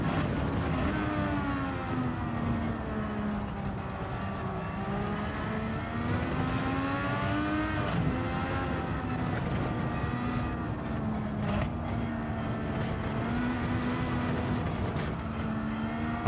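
A race car engine in Gran Turismo 7 revs hard and continuously, its pitch climbing and dropping as it shifts through gears during a licence test, loud and sustained throughout.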